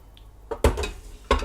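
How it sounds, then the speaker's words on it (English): Macaroni and water are stirred in an Instant Pot, giving a few brief, close knocks and clatters of a utensil against the metal pot over a soft watery swish. "I'm just gonna give that a little bit of a stir."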